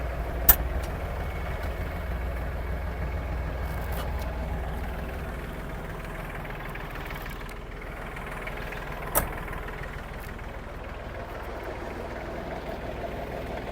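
Steady low rumble of an Iseki TG-333 Japanese mini tractor's engine running at high speed, driving the PTO shaft and blades, continuous and moderately loud with a couple of brief clicks.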